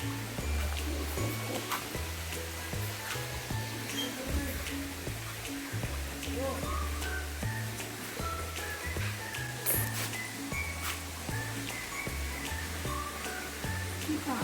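Steady broadband rush of a stream and waterfall near a hidden village, continuous and moderately loud throughout, with a low droning hum layered beneath and no talk.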